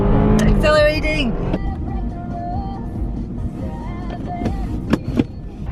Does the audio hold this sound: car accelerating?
yes